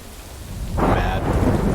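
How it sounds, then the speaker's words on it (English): Rain and thunder in the video game Death Stranding: steady rainfall with a deep rumble of thunder swelling in partway through and holding loud to the end. "Started raining."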